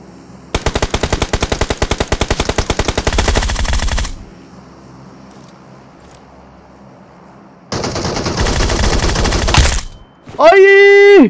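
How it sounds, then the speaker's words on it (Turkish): Rapid automatic gunfire in PUBG Mobile comes in two long, loud bursts separated by a quieter stretch, followed by a short rising electronic tone at the end. "Nerede sıkıyorsun? Göremiyorum."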